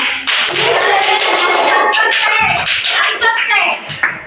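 Applause from a classroom audience at a teacher training session, a dense, steady patter of many hands clapping close by that carries through most of the stretch before thinning near the end.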